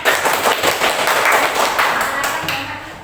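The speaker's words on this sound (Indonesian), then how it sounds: "habis tepuk tangan untuk kelompok 3" A classroom of students gives applause for group 3, a dense burst of quick hand claps close by that gradually thins over about three seconds.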